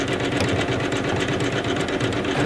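Embroidery sewing machine stitching a design onto a towel, a fast steady mechanical chatter with rapid rhythmic needle pulses, close and continuous.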